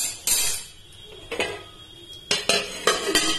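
A lid clanks onto a cooking pot of vegetarian shahi paneer biryani, a few sharp metallic knocks and clatters close by with quiet gaps between them.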